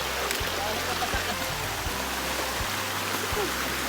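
A river stream flows with a steady, rushing wash of water noise, a low hum running beneath it and faint voices in the background.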